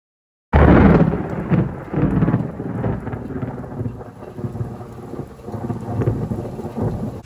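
Heavy thunderstorm with steady rain pouring down, a loud crack of thunder bursting in at the start and rumbling on beneath the continuous downpour, with no voices.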